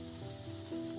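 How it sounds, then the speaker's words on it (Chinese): Chicken wings sear in a pan until golden, giving a brief, steady close-up sizzle with a faint hum beneath it and no voices. "接着我们将炒下的鸡翅煎至金黄"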